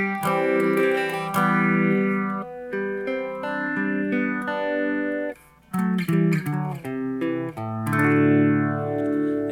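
An electric guitar with distortion plays the bridge of a song, sustained overdriven chords and ringing notes moving through a riff, loud and upfront with a brief dip midway and no speech.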